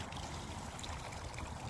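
Rainwater in a small planter tipped out with a foot, giving a faint continuous trickling and splashing wash with no clear individual drips or talk.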